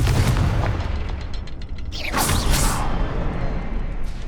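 A Confringo spell in Hogwarts Legacy bursts with a loud boom, a whooshing blast rising midway and then rumbling on under ongoing game noise.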